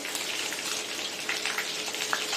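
Dried red chillies and chopped onion frying in hot oil for a ponnaganti greens and moong dal fry, giving a steady close sizzle with faint crackles throughout, no voices.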